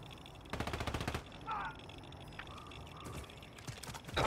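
Rapid automatic gunfire in Call of Duty on the Urzikstan map: one loud, fast burst of shots, followed by scattered quieter shots and game effects, with faint voices in the background.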